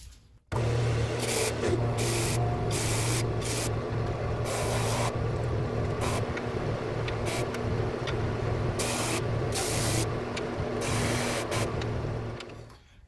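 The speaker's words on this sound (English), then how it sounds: "So let's sand it." Wood pieces for a turned feature ring being sanded flat on a power sander, a steady loud motor drone with a continuous hum that runs almost the whole time after a brief start, marked by repeated bursts of abrasive hiss.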